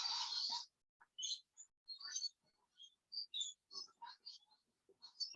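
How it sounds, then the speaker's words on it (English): Wild lorikeet parrots give a rapid series of shrill, squawking calls, some louder and close, others brief and scattered, with short quiet gaps between the bursts. "This is what lorikeets sound like in the wild."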